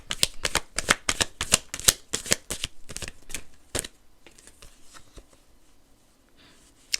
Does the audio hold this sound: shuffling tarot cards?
yes